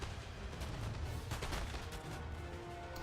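Musket volleys crackle through a Napoleon: Total War battle between Britain and France on Prussian hills, a dense, continuous spread of distant gunfire with no voices.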